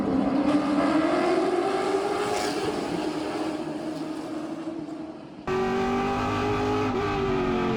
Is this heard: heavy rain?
no